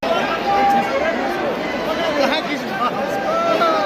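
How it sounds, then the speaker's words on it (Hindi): A large crowd talks in Mana village after a rally by Prime Minister Modi, a loud, continuous babble of many voices at close range with no pauses. "यहाँ पे भीड़ बहुत ज़्यादा है"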